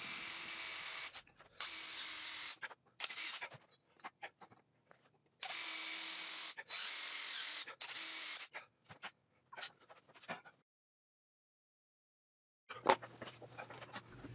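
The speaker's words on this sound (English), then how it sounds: "We're going to chuck this up in the lathe so we can turn it down to a 7/8 inch diameter shaft" Metal lathe turning a center-drilled bar held by a live center down to a 7/8 inch shaft, with bursts of steady broadband machining noise separated by pauses and quieter clicks, then near silence before a faint low hum returns.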